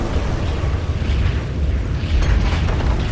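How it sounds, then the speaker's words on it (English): Diabolic Edict explosions crash against barracks in a Dota 2 match as a continuous loud, dense roar of blasts and rumbling game effects, with no pause for about three seconds. "those Diabolic Edict explosions are just going to melt these barracks"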